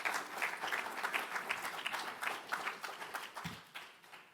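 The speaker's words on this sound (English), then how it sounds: "That's deserving of applause" A room of people at a Jewish federation distinguished service award event applauds, a soft, steady patter of clapping that gradually thins toward the end.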